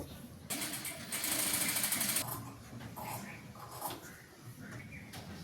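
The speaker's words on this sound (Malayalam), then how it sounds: "ഇത് അടിച്ചിട്ട് പീസ് അടിക്കുന്നു" A sewing machine stitches a piped nighty with a fast, steady motor whir in two bursts, the longest about two seconds, then lighter intermittent running with soft handling noises close by.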